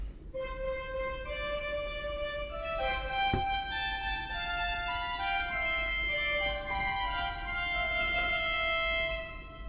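Two melodic voices play a baroque fugue in the style of Hotteterre: the answer line joined by a freely improvised counter-melody, forming steady overlapping sustained woodwind-like tones with no talk.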